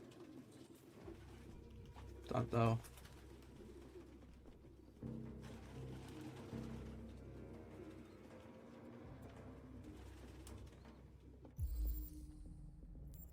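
Pigeons coo in a city scene in the video game Detroit: Become Human, soft repeated low calls under a faint ambient bed, with a brief louder thump near the start and another near the end.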